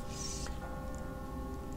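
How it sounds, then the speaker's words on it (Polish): Church bells toll in the stealth video game Styx: Master of Shadows, a bright ringing strike standing out early over a steady low ambient hum and sustained tones, with no talking. "Czego mi tu dzwony biją?"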